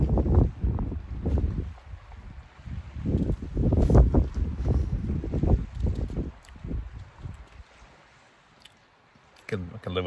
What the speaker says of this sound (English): The wind's horrendous.